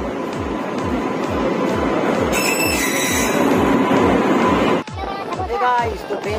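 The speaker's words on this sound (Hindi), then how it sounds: "यहाँ पर ट्रेन है" A passenger train at a railway station on the Pratapgarh–Kanpur route, its wheels clacking rhythmically past over the rails with a loud rumble, a brief squeal, then a sudden change near the end; no speech.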